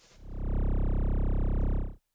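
A single synthesized tone swells in and holds for about two seconds with a buzzy, sweeping flanged texture, then cuts off abruptly.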